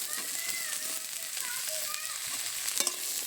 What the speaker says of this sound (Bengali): কুচানো আলুটা দিয়ে একটু নেড়ে চেড়ে নেব